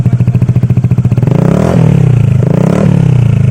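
A loud, unmuffled Honda PCX160 scooter engine with a full-system muffler and no silencer chugs at idle, then revs up a couple of times with a harsh, rattling roar, very close.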